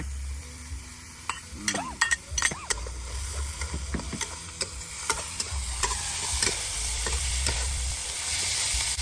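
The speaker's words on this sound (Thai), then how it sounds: "มันจะผัดให้หอมเลย ตอนนี้หอมอยู่แล้วก็จะใส่ถั่วลงไป" Beans being stir-fried for Thai kaprao sizzle steadily in a hot pan, with scraping and stirring clatter and a hiss that builds toward the end.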